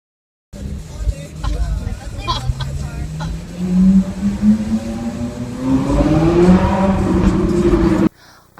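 A Ferrari sports car revs in a city street, its engine pitch climbing steadily over several seconds and growing louder and nearer, with crowd chatter and street noise beneath it.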